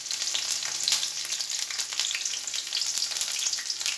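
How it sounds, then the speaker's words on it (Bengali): Thickly sliced onions sizzle lightly in a pan for rice cooking, a steady soft crackle and hiss with small pops, moderately close and fairly quiet, no voices. "পেঁয়াজটা একটু হালকা ভাজি করে নিতে হবে।"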